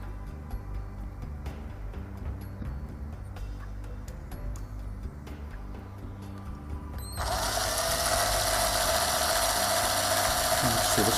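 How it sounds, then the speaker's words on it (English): A power drill bores a pilot hole at slow speed. Quiet ticks and handling noises come first, then the motor starts and gives a loud, steady whine with a grinding edge that runs to the end. "So the slow speed and no pressure on the drill. I'll just let the drill do all the work."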